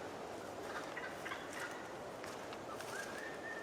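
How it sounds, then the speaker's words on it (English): Several crows call repeatedly in the distance over a steady outdoor hiss, with overlapping squawking cries and no voices. "Hear them crows?"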